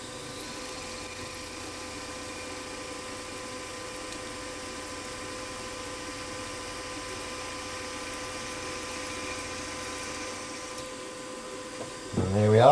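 A steady mechanical whir of a drill boring a 5mm hole, running continuously for several seconds, with a high-pitched tone above it, stopping near the end with a brief clatter.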